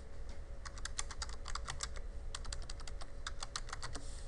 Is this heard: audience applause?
no